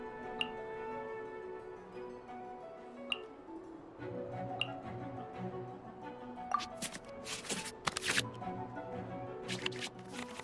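Cards shuffling back into the draw pile in the Genshin Impact card game, a run of soft ticks and quick crisp flicks that bunch into a busier clatter toward the end, faint music underneath.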